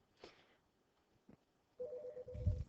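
Real telephone ringing interrupts a classroom math lesson, a faint electronic tone that comes in late and sits steady among quiet room noises, with some bumps and rustle under it.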